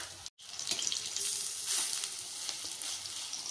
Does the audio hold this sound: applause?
no